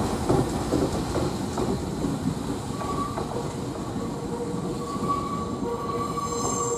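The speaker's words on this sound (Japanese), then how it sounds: "これが噂の絵本電車かな。" A colourful picture-book themed train passes a station near Jōshū-Tomioka on the Jōshin Electric Railway, a steady nearby rumble of wheels and carriages with faint squeals, continuous and fairly loud throughout without talk.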